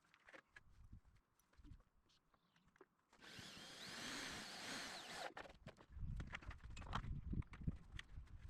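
A power drill whirs for about two seconds driving screws into a DIY pool water heater build, amid clattering knocks and handling noise before and after, fairly close.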